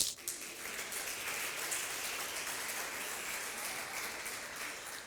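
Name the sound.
congregation applause for the women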